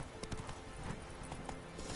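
Horse hooves clop along a road in the video game The Witcher 3, a steady run of close hoofbeats over a busy game soundscape.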